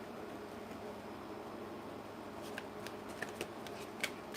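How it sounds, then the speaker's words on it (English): Tarot oracle cards are shuffled close by, making a quiet papery rustle with soft, scattered flicks and snaps that grow clearer toward the end, set against low room hiss. "One more shuffle"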